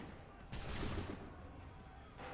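A musket volley from a line of regulars in the video game Assassin's Creed III erupts as a dense crackling burst over steady background battle noise, fading over about two seconds.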